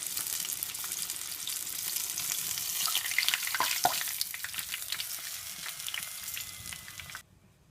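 Carp frying in a pan, giving a steady, close sizzle and crackle that holds for about seven seconds, then cuts off abruptly near the end.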